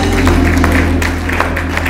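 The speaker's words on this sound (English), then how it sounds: "Y'all give these men a hand clap." A church congregation applauds the men gathered at the front during worship: steady, dense clapping from many hands over a constant low hum, with no clear voices.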